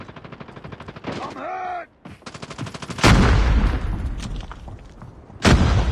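Gunfire in the Call of Duty Mobile video game: loud, close bursts of shots crack out in two heavy volleys over rumbling battle noise, with shouted voices and a pained cry heard before the shooting.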